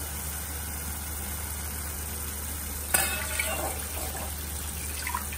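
Water is poured into a pot while Maharashtrian kadhi is being made, starting with an abrupt splash and running on as a short, close liquid gush over a steady background hum.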